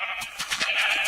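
A single sheep in a video game bleats once, a short wavering nasal cry heard up close with no speech.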